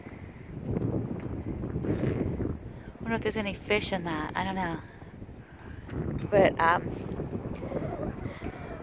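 Wind buffets a microphone outdoors at Ocean Shores, Washington, a rough low rumble that comes and goes in gusts, with people talking over it.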